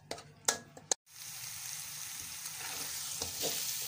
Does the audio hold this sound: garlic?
yes